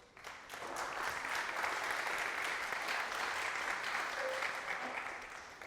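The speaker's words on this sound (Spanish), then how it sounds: "Así que démosle un fuerte aplauso." At a tech talk on AI agents, an audience claps to welcome the speaker: a soft, steady round of applause that swells within the first second, holds evenly, and then tapers slightly.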